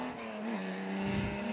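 GMC truck V8 in the GMC Special race car at a sprint meeting on a racetrack, a deep, steady engine drone with a sustained low tone that rises slightly as it carries on, fairly close.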